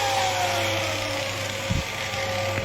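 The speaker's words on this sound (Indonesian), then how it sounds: "ini motor bor 1 HP 740 watt" A 1 HP, 740 watt electric drill motor running, a loud steady whine and hum with one brief thump partway through.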